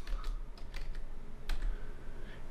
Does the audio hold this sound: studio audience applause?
no